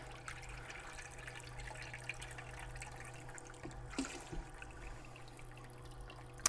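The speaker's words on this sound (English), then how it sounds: "I'll get a little bucket like this and just fill it up" Water pouring and trickling into a small bucket from an electric aquarium gravel vacuum while a fish tank is cleaned, a low steady running gush with a few splashes and a faint background hum.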